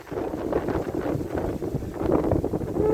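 Steady wind gusts across an open rice field during a communal harvest, rushing and buffeting the microphone continuously at close range.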